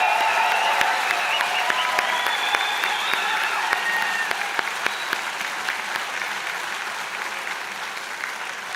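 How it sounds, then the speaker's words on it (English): Convocation crowd at a skilled trades graduation applauding and cheering for the class of 2019, sustained clapping with scattered whoops and voices, steady and full before easing slightly. "how about one last huge round of applause and cheer for all the graduating class of 2019"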